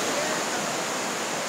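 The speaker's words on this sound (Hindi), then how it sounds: "ये देखिए चिरचिरी वाटरफॉल" Chirchiri waterfall in Jashpur, Chhattisgarh rushes with a steady, loud hiss of falling water, filling the scene evenly from start to end.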